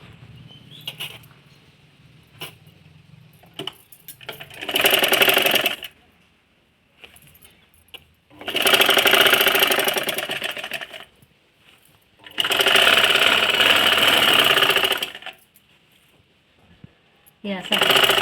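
A domestic sewing machine joins dress sleeves made from an old sari, running in three loud sustained bursts of rapid stitching separated by pauses, with voices talking in between.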